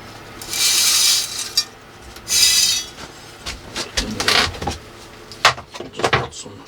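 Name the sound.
filling bonsai pot with soil around quince roots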